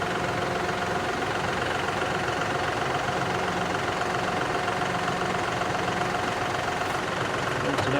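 A John Deere 5075E tractor engine runs steadily at a constant idle while digging post holes, a dense continuous rumble heard close with no change in pitch.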